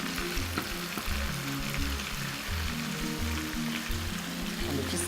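Fish frying in oil in a pan gives a dense, steady crackling sizzle, close and constant throughout, with no talk over it.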